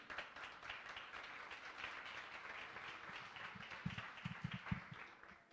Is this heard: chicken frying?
no